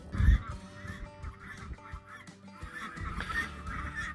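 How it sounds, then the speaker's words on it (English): Guinea fowl and ducks on a snowy ranch call in a loud burst of squawks at the start, then keep up scattered, fainter cries and honks under a cold outdoor hush. "You can see the guineas, they're pretty loud in the background."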